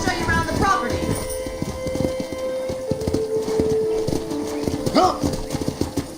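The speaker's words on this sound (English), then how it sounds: "let's see if you can still ride a horse" Horse hooves clip-clopping at a steady walking rhythm in the Western video game Red Dead Redemption, close and prominent, with a brief whinny and a voice near the end.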